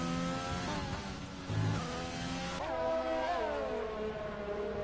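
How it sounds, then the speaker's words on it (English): A race car engine revs unevenly during a race, its harmonic whine sliding up and down in pitch against a steady background roar, with no talk over it. "His car is doing a weird revving sound down there."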